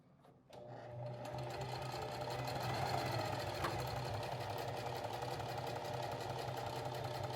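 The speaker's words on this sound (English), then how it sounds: "we can sew that box stitch on this side of the handle just the same way we did it on the other side" A sewing machine runs steadily, sewing a box stitch onto a duffel bag handle. The motor hums continuously and loudly after a brief quiet start, with no talking.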